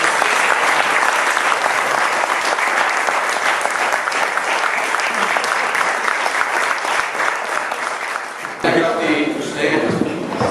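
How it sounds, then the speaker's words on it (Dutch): Loud, sustained applause from the public at a municipal council meeting fills the room for about eight seconds, then fades as a voice starts speaking over the tail end. "gaan we daar al mee binnenkomen onder luid applaus voor Nicole"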